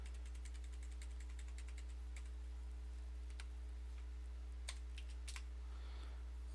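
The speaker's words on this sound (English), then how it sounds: "I'm just getting used to a new keyboard." Typing on a new computer keyboard, a quick run of close, crisp key clicks followed by sparser taps and a few louder strokes, over a steady low electrical hum.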